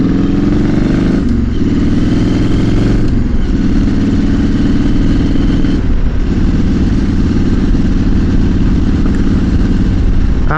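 A motorcycle fitted with a homemade twin pipe exhaust system runs close by at a loud, steady idle with a deep, continuous rumble and slight clatter, at a cold evening bike night.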